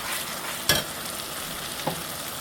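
Oil sizzling in a pan for a spicy baim fish bhuna, a soft continuous crackle with two sharper clinks or stirring knocks, close by.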